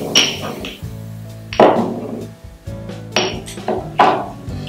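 Two cardamom pods are pounded in a kitchen, with several sharp, loud, hard strikes spaced a second or so apart, each knock ringing briefly against a pan or board.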